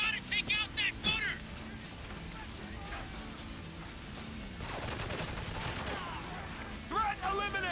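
An enemy gunner fires in Spec Ops: The Line, with a dense rattle of gunfire building toward the end under overlapping shouted voices, set against ongoing battle noise.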